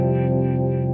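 A Fender Jaguar electric guitar holds one sustained, harmonically rich note for about a second while its tone control is adjusted, clear and close with no other sound.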